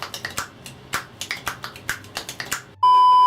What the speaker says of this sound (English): I'm actually going to snap my fingers.